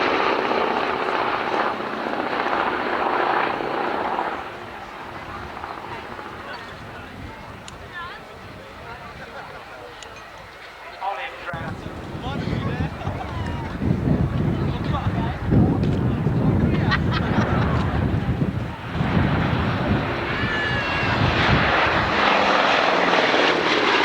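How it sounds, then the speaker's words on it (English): Boeing B-17 Flying Fortress Sally B flying at an airshow, a loud propeller engine drone that dips, then swells into a heavy rumbling roar as the aircraft passes, with crowd and background noise. "Sally B, Boeing B-17 Flying Fortress."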